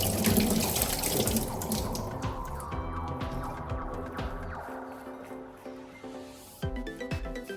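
Water runs steadily from a tap while drumstick flowers are rinsed and handled beneath it, splashing close by with occasional clinks and knocks.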